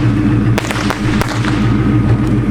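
Fireworks go off near a Ford Mustang outdoors, with several sharp bangs and pops over a steady, loud background rumble, fairly close.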